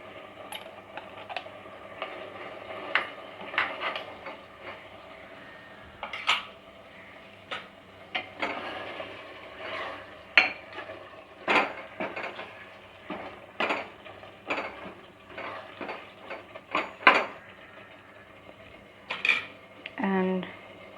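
Ghee and garam masala are mixed into a thick mutton curry, with quiet clinks and scrapes of a spoon against the pot recurring irregularly, faint talking at times.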